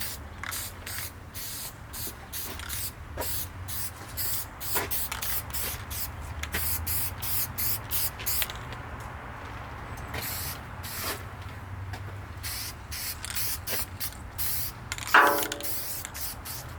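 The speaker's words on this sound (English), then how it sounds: "I'm going to spray it down with some guide coat" Steady hiss of an aerosol can spraying guide coat over primer on a tractor fender, applied in short repeated bursts with brief pauses, close and continuous through the clip.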